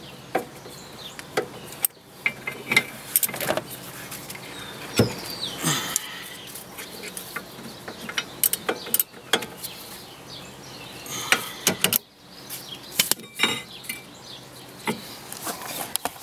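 Metal clinks and ratcheting clicks from tightening wheel bolts by hand after new disc brake rotors go on, arriving in irregular sharp bursts with brief pauses, close by, with no talking.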